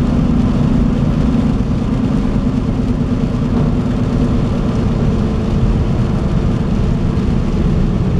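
A Chevy Silverado's 5.3 V8, burning oil and on a rusty truck, drones steadily while driving, a loud continuous low engine hum with road noise and no pauses.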